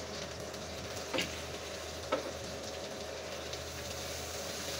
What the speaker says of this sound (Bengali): এবার মাছটাও ভালোভাবে উল্টিয়ে পাল্টিয়ে এবার আমি পেঁয়াজগুলি সহ ভালোভাবে ভেজে নিয়ে